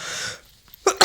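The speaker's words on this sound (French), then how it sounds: "je pense que je vais éternuer" A person sneezes indoors, a quiet sharp intake followed by two loud, abrupt bursts close to the microphone near the end.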